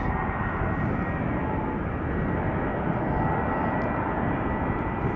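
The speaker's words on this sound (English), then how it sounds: "Flight 1302 going to Helsinki, A321, 6 years old" An Airbus A321 jet on flight 1302 to Helsinki at Schiphol Airport, giving a steady broadband engine roar that holds evenly through the short stretch, with no voices.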